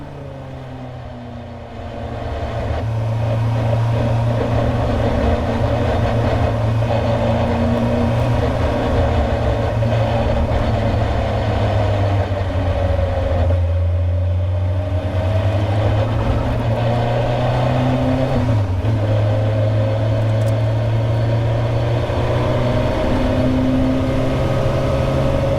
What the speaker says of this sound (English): Gigantic smoking drifts as they appear over the top to this view.